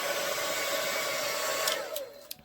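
Steady whooshing roar of a blow dryer pushing acrylic and house paint across a Dutch pour canvas, close and constant, winding down near the end, followed by a couple of faint clicks.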